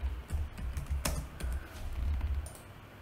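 Typing on a computer keyboard while entering text into a field during software automation setup, with steady, close clicking keystrokes in irregular bursts over about three seconds and no talk.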